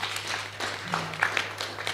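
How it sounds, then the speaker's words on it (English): Audience at a business model competition applauds a finalist, giving steady, dense, moderately loud clapping throughout with a brief voice murmur under it. "let's give a round of applause for our second finalist"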